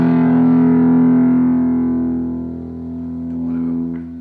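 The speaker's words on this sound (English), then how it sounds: "This is to more distortion." An Epiphone ES-335 limited edition electric guitar rings out a distorted power chord in drop D tuning, a single loud sustained strum that slowly fades and swells slightly with no talking.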